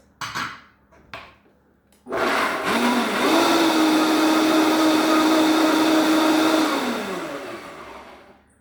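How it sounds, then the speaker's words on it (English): A blender whirs up washed blueberries for homemade cashew butter: a couple of brief knocks, then the motor starts, runs loud and steady for about five seconds, and winds down. "So I have the blueberries washed, and I'll be blending that first."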